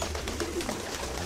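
Pigeon cooing in the surreal spy comedy game Jazzpunk, a soft continuous coo repeated over a low ambient hum, fairly close and steady with no talk.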